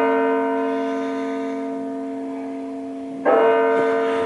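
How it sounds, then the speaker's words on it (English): Church tower bells ring out at a church in Delft, Netherlands, a sustained resonant tolling that hangs in the air and slowly decays, with a fresh louder strike near the end. "So I'm missing the bells."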